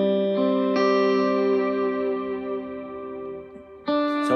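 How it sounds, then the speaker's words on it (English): Ethereal, steel-guitar-like electric guitar swells with echo and reverb, long sustained chiming tones that ring and fade for several seconds before a fresh note enters near the end, alone and moderately loud. "Had a guitar player put some really cool ethereal stuff in the beginning to make it more spookier"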